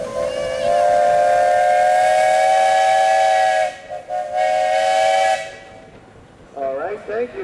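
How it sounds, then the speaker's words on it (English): The whistle of an antique steam traction engine at a 2014 Pioneer Days show in Rushville, Indiana, blows loud and close: one long, steady blast, a brief break, then a shorter second blast, followed by fainter sounds. "Do you have a whistle?"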